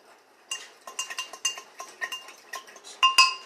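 A utensil scraping and clinking against a pot while milk is stirred for cornbread, with quick irregular taps and scrapes in a steady run and a brighter clink near the end.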